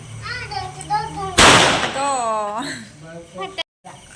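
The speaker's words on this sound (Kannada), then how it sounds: "ಪಟಾಕಿ" A single sharp firecracker bang bursts out amid people talking at a child's nighttime birthday celebration, a loud broadband crack that fades within about half a second.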